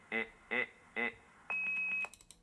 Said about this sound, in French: Après le bip, pas avant, pas jamais avant, toujours après, à Lolo.